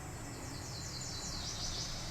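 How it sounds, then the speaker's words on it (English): A chorus of cicadas on a hot summer day with a breeze through a willow tree, a steady high buzzing drone with wavering pulses, faint and continuous with no voices. "A chorus of cicadas serenaded us as we patiently waited"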